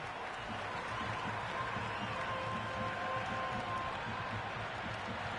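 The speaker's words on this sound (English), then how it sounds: "There's an almost tangible fervour throughout the crowd at the moment." A packed cricket stadium crowd roars steadily throughout an India versus Pakistan T20 warm-up match in Dubai, a dense, continuous wash of cheering and chatter with no break.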